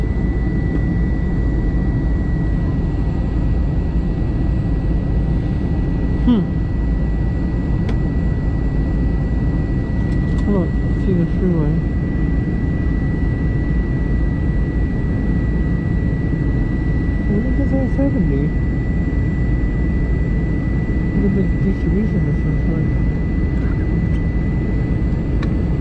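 Steady, loud jet engine roar and broadband cabin hiss fill an airliner in flight from Las Vegas to Denver, continuous throughout, with faint voices occasionally under the drone.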